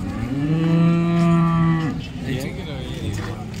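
A cow lets out one long, loud moo lasting nearly two seconds, followed by quieter rustling and faint farmyard noise.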